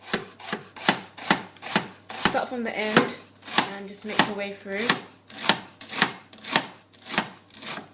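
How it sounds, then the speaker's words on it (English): Knife chopping onions on a board, steady rapid thuds repeating about twice a second, close and loud, with a voice speaking briefly over part of the chopping. "chopping the onions."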